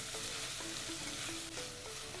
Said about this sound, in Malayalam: നേരത്തെ ചതച്ച് വെച്ച ഇഞ്ചി വെളുത്തുള്ളി ഇല്ലേ, ഈ ഇതങ്ങ് ചേർത്ത് കൊടുക്കുകയാണ്. എന്നിട്ട് ഇതിൻ്റെ ഈ പച്ചച്ചോവയൊന്ന് മാറുന്നിടം വരെ നന്നായിട്ടൊന്ന് വഴറ്റിയെടുക്കണം